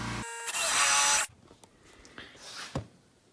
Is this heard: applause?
no